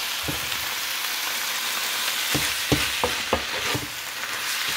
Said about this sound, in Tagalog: tapos i-add natin yung chicken natin na boneless